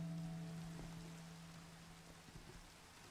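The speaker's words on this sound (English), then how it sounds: "And this heckish rain would finally stop." Steady rain pours during a storm, a soft, even hiss of drops across the whole stretch, fairly faint, with a low steady hum underneath and no voices.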